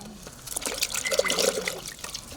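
Water poured over a large brown cobra to wash it during a village snake rescue: an irregular splashing and dribbling stream, close and moderately loud, with faint background voices.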